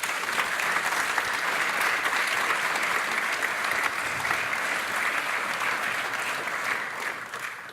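Sustained applause from a press conference audience welcoming Trevecca's new men's basketball coach, steady dense clapping that holds for several seconds before tapering slightly at the end.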